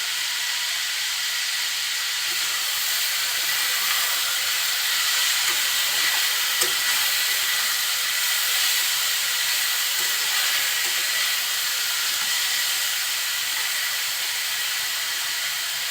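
Small new potatoes fry in a pan over medium heat with a continuous, even sizzling hiss, moderately loud and steady throughout, with faint occasional stirring sounds.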